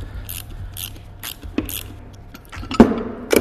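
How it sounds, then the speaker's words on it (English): A ratchet driving a 6mm Allen bit through a pass-through socket works loose a suspension bolt during a lowering-spring install, giving a few short clicking bursts up close with brief pauses between them. "another ratchet with a 6mm Allen. So got the pass-through on there, Allen goes in there, and we can start undoing this bolt."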